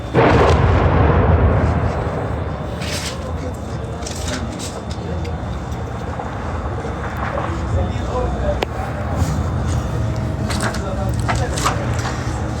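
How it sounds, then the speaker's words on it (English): Night-time bombing and artillery explosions rumble heavily in the distance, with booming thuds and sharp bursts over a continuous low roar while a person talks nearby. "Do you hear these bombings?"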